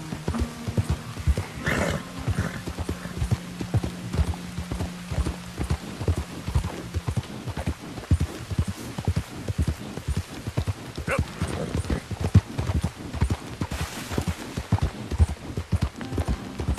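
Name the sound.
horse galloping in Red Dead Redemption 2 video game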